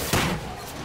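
Gunfire from behind in the World War I shooter Battlefield 1, a single loud blast-like impact early on, then a sustained rumbling wash of battle noise.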